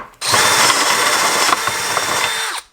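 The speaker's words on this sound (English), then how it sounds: "I'm actually going to use my drill with a step bit on it." A power drill fitted with a step bit widens a hole in a soft aluminum valve cover: one loud, steady whining bore of about two seconds that starts and stops abruptly, with no talk over it.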